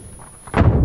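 An explosion hits the player in a shooter game, arriving as an abrupt heavy blast after a quiet moment and staying loud to the end.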